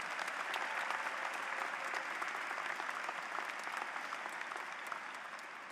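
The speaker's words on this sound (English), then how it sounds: "Let's have a round of applause for them." Sustained applause from a large crowd at a university engineering commencement ceremony, a dense, steady wash of many hands clapping at once, heard from a distance and holding evenly throughout.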